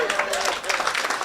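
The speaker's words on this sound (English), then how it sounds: "Let's give him a big round of applause" Audience applause at a local buck pole hunting event, a steady wash of many hands clapping together, fairly loud and continuous for a moment with a voice faintly mixed in.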